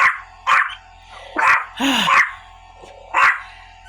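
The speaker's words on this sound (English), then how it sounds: "Of course they're gonna bark." Several dogs bark at a battery-operated generator outside, giving about five sharp, loud barks spaced across the moment, with a whining yelp in the middle and a low generator hum running steadily underneath.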